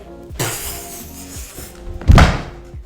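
A person vocally imitates an explosion, giving two breathy bursts, the second louder and more forceful, with soft thumping noises between them.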